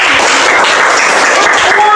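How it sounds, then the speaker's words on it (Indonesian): A class gives loud, dense applause up close, a continuous rough wash of many hands clapping together for the full two seconds, with some voices blending in. "Kita tepuk tangan untuk semua."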